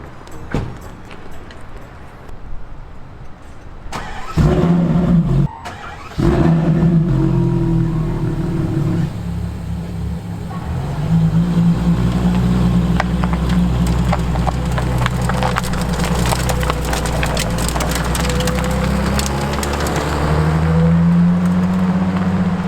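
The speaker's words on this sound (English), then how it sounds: "let's hear the startup of this beast" A Ferrari LaFerrari hypercar on a London street starts up with a sharp crank and catch, then settles into a loud, close idle with repeated rising revs and a deep, steady engine drone.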